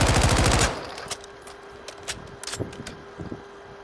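Rapid automatic fire from an AR rifle, a dense burst of shots for under a second, followed by sparse quieter clicks and pops.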